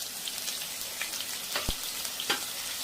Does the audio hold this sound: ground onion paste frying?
yes